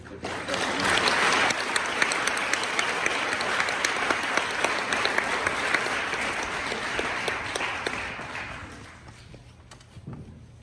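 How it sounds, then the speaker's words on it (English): A crowd at a school Veterans Day ceremony gives sustained, loud applause for a technical sergeant, thick continuous clapping that tapers off near the end. "Please join me in welcoming Technical Sergeant Austin Robedeaux with a round of applause"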